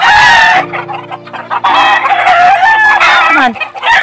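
Chickens and roosters for sale loudly crow and cluck together, with repeated overlapping calls, close and dense throughout.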